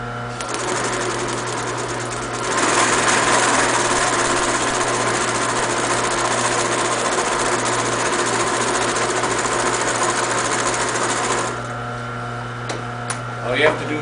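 A sewing machine stitching pleats into foam-backed vinyl for an XM 800 restoration, a loud continuous mechanical whir with a steady hum that kicks up in speed partway in, runs evenly, then slows and stops near the end.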